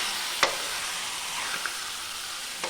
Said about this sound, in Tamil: சேர்த்து நல்லா இது சுருண்டு வர வரைக்கும் நல்லா வதக்கிக்கணும்